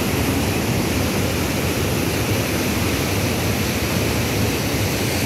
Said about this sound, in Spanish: Prácticamente ya se está desbordando.